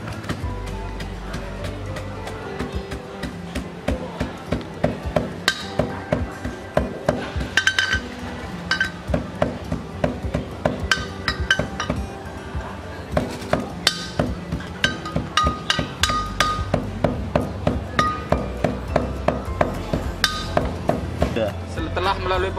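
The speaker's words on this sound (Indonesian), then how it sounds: "setelah diambil karbonnya kita tumbuk supaya bisa dipisahkan antara yang halus sama yang kasar" Carbon black produced from plastic pyrolysis is pounded to separate fine from coarse particles, a steady run of hard knocking thuds with clinking, close and continuous.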